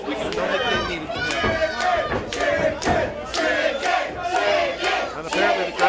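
A crowd shouts and cheers in steady, overlapping waves of loud voices that carry on throughout.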